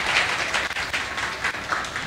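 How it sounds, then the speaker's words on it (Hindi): Applause from a classroom audience at a coaching academy, welcoming a student selected for an ASI police post. Steady, dense clapping fills the whole stretch at moderate loudness with no voices over it. "तो एक बार इनके लिए जोरदार तालियां"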